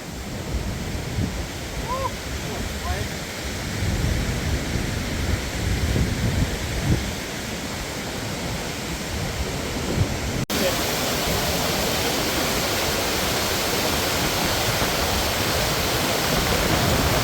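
Steady, dense roar of rushing water close by at Tad Xekatam waterfall, Champasak, Laos, broadband and continuous, with a sudden shift to an even brighter hiss partway through.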